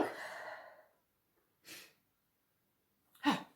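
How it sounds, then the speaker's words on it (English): A person sneezes indoors: a breathy burst at the start fades out, followed after a pause by a short sharp exhale and then another forceful sneeze-like burst near the end, close and clear with silence between. "Sorry, sneeze."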